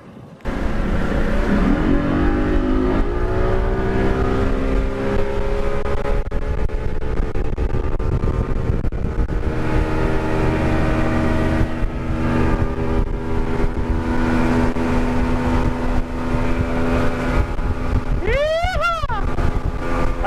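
Steady roaring wind buffeting the microphone over a droning boat engine as a fishing boat runs at speed, continuous throughout with a brief warbling sweep near the end.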